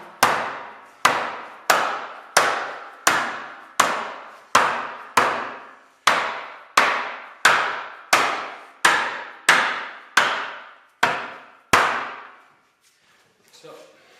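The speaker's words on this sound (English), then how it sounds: "You just want to hit directly over the top of each tenon and make sure it goes together." Metal art bench parts are knocked down onto their tenons with a series of about fourteen sharp, evenly spaced hammer blows, each ringing briefly, close and loud, before quiet at the end.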